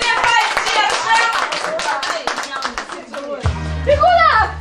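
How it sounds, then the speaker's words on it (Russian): A small party crowd claps for a wedding-guest game at a birthday table, with several seconds of dense, close applause and lively voices and shouts heard over and around it. "Аплодисментами поддержим."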